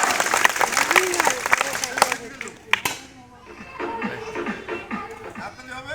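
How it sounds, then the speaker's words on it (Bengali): Loud audience applause fills a magic show, dense clapping for a couple of seconds that thins into scattered claps while a voice carries over the crowd. "একটু করতালি হবে সবাই, জোরে জোরে জোরে জোরে সবাই"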